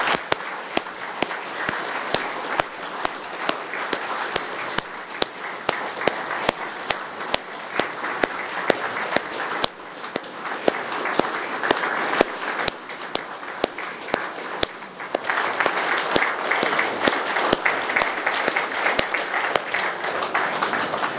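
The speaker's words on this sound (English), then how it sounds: "Applause, please." Applause greets police chief Frank Wills at a city council meeting, a room of people clapping steadily with sharp individual claps standing out, swelling louder in the last third.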